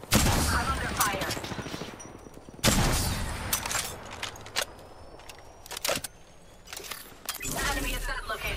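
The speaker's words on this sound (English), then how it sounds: "Being shot at" Gunfire rattles in Apex Legends, sharp close shots and short bursts landing repeatedly across the stretch with quieter gaps between volleys, loud against a steady background of game noise.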